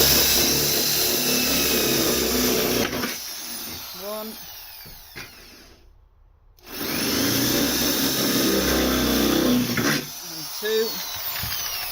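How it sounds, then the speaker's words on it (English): A power drill with an 8mm bit whines loudly at high speed drilling holes in a car chassis, stopping briefly and starting again, while a man counts aloud between bursts. "we're going to start at the front with an 8mm drill bit"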